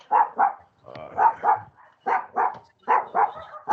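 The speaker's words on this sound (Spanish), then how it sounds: "se agarraron unos perros afuera" Dogs fighting and barking outside, paired rapid barks repeating in quick bursts with brief whimpering yips between them, fairly loud and continuous with no talking.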